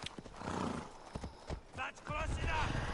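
A horse stamps and clops its hooves nearby, then lets out a rising whinny, with a person talking over it in a rough, noisy outdoor setting.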